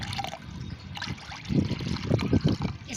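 Plain water is poured into homemade liquid plant fertilizer, a steady trickling and splashing pour that grows heavier and more gurgling toward the end, close up with no talking.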